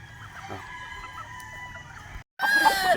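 White Kelso chickens cluck and crow nearby, a loud crow bursting out at the end after a brief silence.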